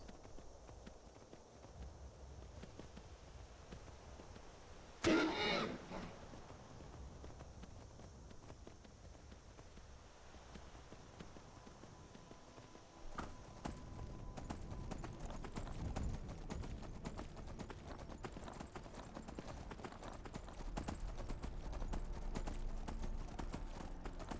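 Horse hooves clopping steadily in the video game Skyrim, a walking rhythm that picks up into a faster run partway through, with a sharp thud early on.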